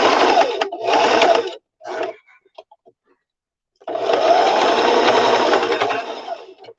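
Sewing machine back stitching through lace and cotton, running in three short bursts, pausing with a few faint clicks, then a long steady run near and loud.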